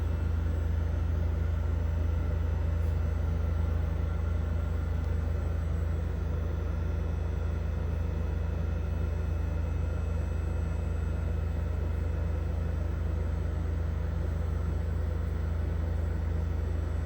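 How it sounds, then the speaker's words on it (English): GE Profile all-in-one washer dryer combo with a heat pump at the top, drying an oversized king-size comforter: a steady low rumble and hum that holds level throughout, close and continuous, with no voices. "The majority of the noise is coming from the heat pump, which is up here in the top of the unit"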